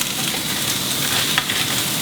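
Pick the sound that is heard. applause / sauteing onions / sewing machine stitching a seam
sauteing onions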